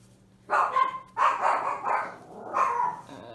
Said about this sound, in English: Excuse my doggies.